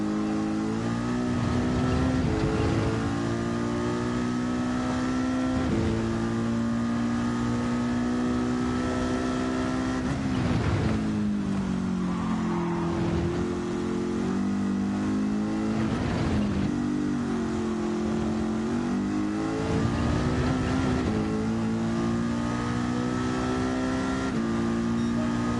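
A race car engine in Gran Turismo holds a steady, loud drone with rising and falling pitch sweeps as it revs and shifts through gears, continuous for the whole stretch with no talking.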